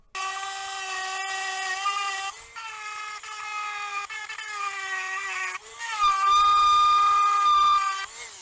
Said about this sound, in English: cutting a groove in here to give the epoxy something to bite onto